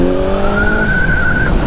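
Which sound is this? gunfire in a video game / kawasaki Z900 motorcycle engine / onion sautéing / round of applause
kawasaki Z900 motorcycle engine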